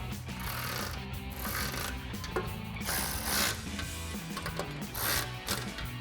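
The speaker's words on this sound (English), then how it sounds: "grab your 10mm socket and tighten them all down" A 10mm socket ratchet clicks rapidly and continuously while tightening nuts on a roof rack extension for a 2018-2025 Jeep Wrangler JL, close and loud, in rhythmic bursts of pawl clatter.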